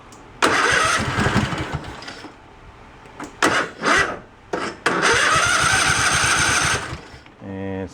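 A free Craftsman lawn tractor engine with a mechanical choke cranks and tries to start in bursts, loud and close, with someone talking in between attempts.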